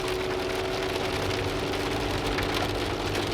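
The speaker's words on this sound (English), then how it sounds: "it's really starting to rain" Steady rain shower on the road up to Mount Etna in Sicily, a dense, even hiss of drops on surfaces with a low engine hum beneath, constant and close throughout, with no voices.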